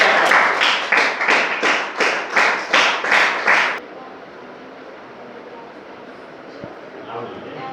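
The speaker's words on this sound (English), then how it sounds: "Let's welcome her on the stage with huge round of applause." An audience at a school presentation claps in rhythmic unison, about ten loud, evenly spaced bursts of hand claps, then stops abruptly, leaving only quiet room tone with faint shuffling.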